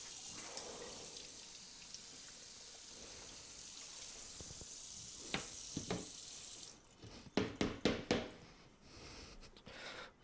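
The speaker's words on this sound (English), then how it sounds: "I'm going to rinse off all of the oils from the hot peppers and stuff that we can." Running tap water rinsing hot pepper oils off a cutting board in a home kitchen, a steady hiss of flowing water that stops, followed by several quick knocks and drips as the board is handled.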